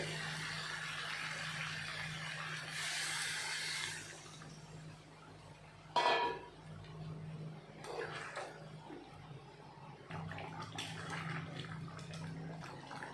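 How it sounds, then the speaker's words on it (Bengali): Water poured into a pot of braised, spiced chicken for biryani, a steady splashing pour near the start, then quieter liquid movement with a few clinks of utensil against the pot. "মাংসটা কষানো হয়ে গেছে, এখন আমি একটু দিয়ে দেবো জল"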